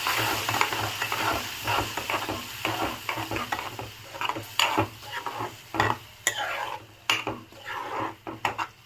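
Tomato paste is stirred into fried onions in a pan. Under a constant low sizzle come repeated scraping and clinking strokes of a utensil against the cookware, irregular and close.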